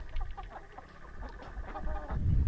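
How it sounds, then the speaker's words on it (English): Laying hens clucking in a farm coop, several short, soft repeated clucks at moderate distance over low background rumble, with no talk. "so this is our laying chickens"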